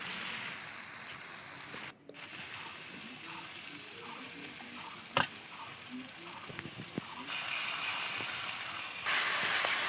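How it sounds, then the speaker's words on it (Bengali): Spice paste for a pangas and tengra fish curry with drumsticks sizzles and fries in hot oil, a steady close hiss with faint clicks of stirring throughout. "বন্ধু তোমরা এইভাবে বাড়িতে মশলাটা কষিয়ে নেবে,"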